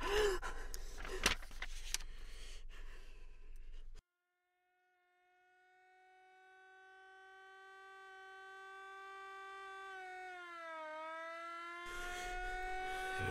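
After a burst of noise, an ambulance siren wails in from a distance and grows steadily louder, its pitch dipping before more noise returns.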